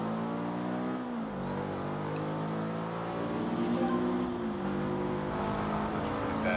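A car's engine revs hard and steady at a drag race launch in Forza Horizon 2, pitch climbing then dropping briefly at each gear shift, loud and close throughout.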